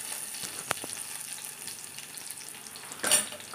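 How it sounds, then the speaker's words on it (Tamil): Chopped onion frying and being stirred in a pan for samba rice kanji, a steady soft sizzle with a sharp utensil scrape early on and a louder stirring burst near the end, close and without talk. "இப்போ வெங்காயத்தை கட் பண்ணி போட்டு நல்லா மிக்ஸ் பண்ணி விட்டுக்குவோம்."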